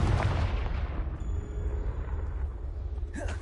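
A Confringo spell in Hogwarts Legacy sets off a loud, close explosive blast with a heavy rumbling roar that slowly decays into a lingering low rumble, followed by a faint ringing tone.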